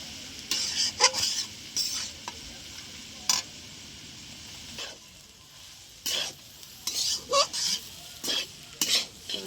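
Egg bhujia with pointed gourd and potato frying in a pan, stirred with a utensil in bursts of scraping clatter over a quiet, steady sizzle, close by with no talk.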